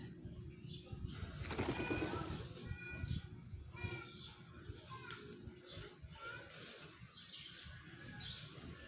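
Flock of pigeons taking off and flying nearby on a morning release, a burst of wing flapping and fluttering with faint chirps and distant children's voices in the background.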